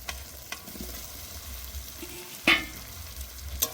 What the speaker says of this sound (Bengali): মশলা থেকে তেল ছাড়া শুরু হয়ে গেছে, এবার ভেজে রাখা আলুগুলো দিয়ে দেবো।